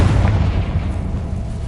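A Confringo blasting spell goes off in the Hogwarts Legacy video game as a loud, deep explosive boom with rumbling low-end that sustains for the full short moment.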